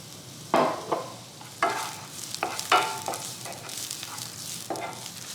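Sliced white onion cooking in a little oil in a pan gives a steady soft sizzle, broken by several louder scraping stirs of a utensil against the pan, close up and with no talking.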